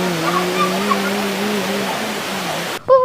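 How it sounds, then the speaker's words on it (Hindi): Fast-flowing water rushes steadily at the Rock Garden in Chandigarh, a loud continuous roar that fills the scene close by, then breaks off near the end as a short voice cuts in. "पानी बहुत तेज है।"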